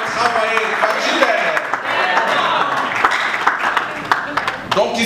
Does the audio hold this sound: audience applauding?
yes